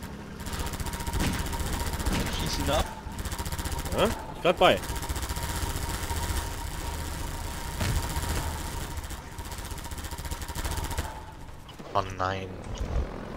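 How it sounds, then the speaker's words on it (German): Helicopter in the shooter Half-Life 2 with a continuous rotor and engine drone that fills the scene, joined by gunfire and effects, while players talk excitedly over it. "Ja, da hinten kommt ein Hubschrauber."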